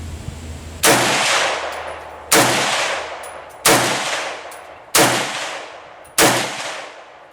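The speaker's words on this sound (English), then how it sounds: "that was 5 shots with the new brake, and that killed the recoil" Five loud rifle shots from an M70 ZPAP AK fitted with a muzzle brake ring out at an outdoor range, evenly spaced about a second and a half apart, each with a sharp crack and a decaying echo.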